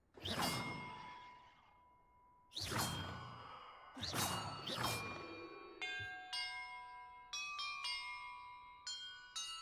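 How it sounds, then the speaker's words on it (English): Bells are rung one after another in the Hogwarts Legacy video game, starting with a few heavy resonant strikes spaced about two seconds apart with a whooshing attack, then quicker bright chiming tones in a rising sequence, all ringing out clearly with no talking. "Perhaps the map contains clues about the order I'm supposed to ring the bells in."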